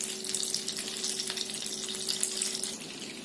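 One tablespoon of butter and two of oil heating in a pan for egg bhurji, giving a steady, moderately loud hiss and fine crackle throughout the short moment.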